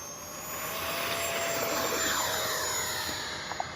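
An E-flite 64mm Viper RC jet with an electric ducted fan flies past, a steady rushing whine that swells and fades gently as it passes at moderate distance, with no talking.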